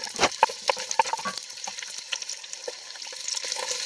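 Onions cooking down in a Dutch oven, a steady soft sizzle with light stirring scrapes and small pops near the start, continuing evenly throughout.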